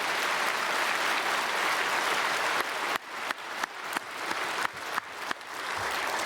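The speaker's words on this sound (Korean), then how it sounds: "우리 크게 박수로 환영하겠습니다." A church congregation at a Sunday service applauds to welcome newly registered members: a broad, even wash of clapping that shifts into a few sharp, separate claps near the end.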